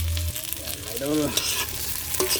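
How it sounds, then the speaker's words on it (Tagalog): Dried salted fish (tuyo) frying in a pan and being stirred, a steady sizzle throughout with scraping strokes of the utensil standing out near the middle and end. "haluin lang natin mga idol"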